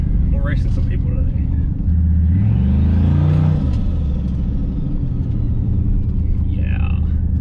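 A turbocharged 2003 Yukon XL engine roars loudly as it accelerates during a drag race, its rising rumble swelling to a peak and then holding steady, with people talking over it.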